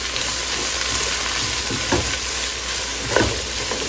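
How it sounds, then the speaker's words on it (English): Blue fish stirred in a hot pot, with a loud, steady sizzle broken by a couple of distinct spoon-against-pot scrapes near the microphone, no talking. "We'll stir that up."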